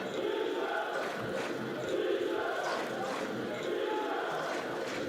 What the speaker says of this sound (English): The crowd getting loud and on their feet.